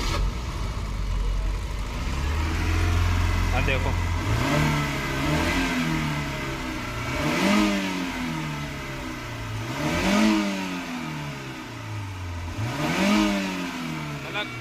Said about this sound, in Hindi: तो देखो अब गाड़ी करते हैं स्टार्ट।